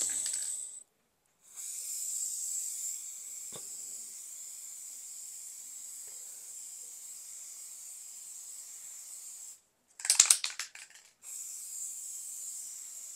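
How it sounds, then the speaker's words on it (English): A steady aerosol spray of varnish hisses for several seconds, pauses briefly, then continues; a short clatter breaks in before the hissing resumes. "I'm going to do a little test spray"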